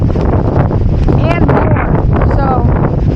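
Strong hurricane wind battering the microphone during a fishing trip, a loud continuous roar and buffeting, with a voice speaking briefly over it.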